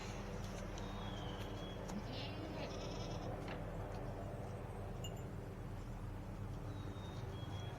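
Goats bleat intermittently, partly buried under a loud, steady drone from a helicopter overhead that fills the whole recording.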